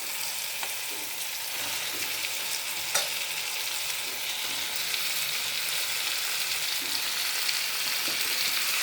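Chicken pieces for gongura chicken fry in a hot pan with a steady, dense sizzle and crackle that holds evenly throughout, with a few light clicks of stirring and no voices.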